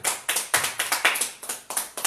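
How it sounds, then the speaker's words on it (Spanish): Rhythmic clapping in a church service, sharp loud claps repeating in a steady beat about four times a second, close and alone without talk. "Dale un aplauso al Señor"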